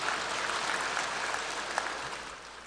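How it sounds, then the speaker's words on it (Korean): A church congregation applauds during a sermon, a moderate, even patter of many hands clapping together, slightly distant and fading toward the end. "박수 한번 쳐주십시오"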